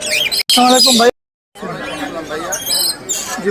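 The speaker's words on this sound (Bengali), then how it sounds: "পাখি আছে লরি পাখি এখানে আরো কিছু পাখি রয়েছে" Lory parrots and other caged birds at a bird market in Mirpur 1 chirp and squawk close by in busy, overlapping calls, broken by a brief silence partway through.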